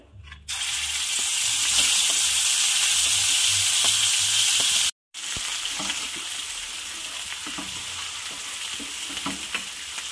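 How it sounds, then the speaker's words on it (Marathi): Ground masala paste for dhaba-style paneer masala hits hot oil and erupts into a loud, continuous close sizzle, broken by one brief silent gap midway before the frying resumes just as strongly. "आता तेल ॲड केलं आहे, तापलं पण तेल। यामध्ये हे वाटण ॲड करते।"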